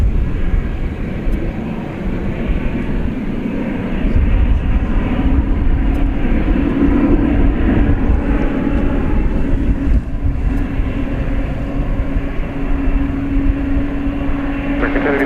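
American Airlines 7 heavy jet rolls for takeoff on runway 18 left at Dallas Fort Worth at night, a deep droning roar building and holding steady with a rising tonal whine, while a voice talks over it.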